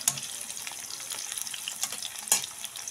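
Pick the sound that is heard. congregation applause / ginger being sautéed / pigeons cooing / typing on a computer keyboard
ginger being sautéed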